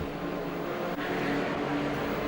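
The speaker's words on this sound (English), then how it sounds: "David helps a young Formula Vee driver with an engine problem" A Formula Vee race car engine with a slight carburation problem runs at a steady idle, a constant low, humming drone close by with a faint brief tick, and no one speaking.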